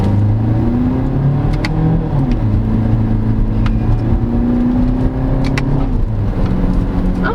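A 2022 Suzuki Vitara ALLGRIP subcompact crossover accelerates hard in sport mode. The engine note climbs steadily through the gears and stays loud and close, with no one speaking.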